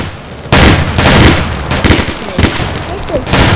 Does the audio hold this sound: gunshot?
yes